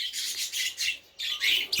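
Pet birds in a cage chirp in a rapid, busy chatter of high tweets, with a brief pause partway through, at moderate loudness.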